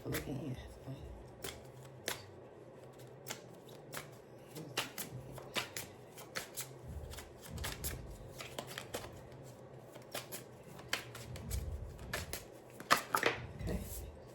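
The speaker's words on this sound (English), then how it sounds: "I'll shuffle again." Tarot cards being shuffled over and over, giving soft crisp riffles and taps at close range and fairly quiet, with a voice talking in between.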